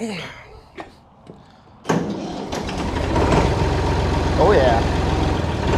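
A Massey Ferguson tractor engine is cranked and fires up. A few clunks lead to a sudden catch, then the engine settles into a loud, steady idle nearby while someone briefly speaks.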